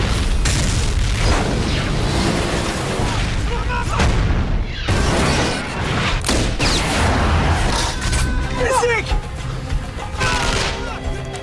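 A bomb bursts under a militants' car in an action film, a loud booming blast followed by continuous rumbling gunfire, crashes and dramatic score, all dense and close.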